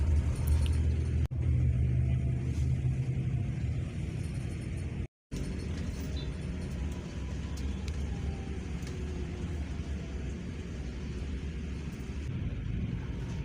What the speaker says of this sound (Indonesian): seperti ini situasi lalu lintas di Jalan Raya Serpong menuju BSD ya. Ini cenderung padat ya